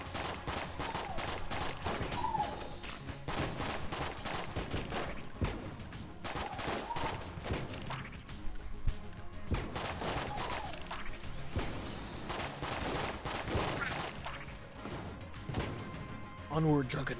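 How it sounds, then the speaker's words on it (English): Repeated shotgun blasts and dense gunfire from the roguelike shooter game Enter the Gungeon, a busy stream of loud bursts layered with game music and effects, with a voice talking over the action. "Stop using your shotgun!"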